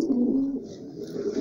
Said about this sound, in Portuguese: Tem pombinha aí pra casalar, ó.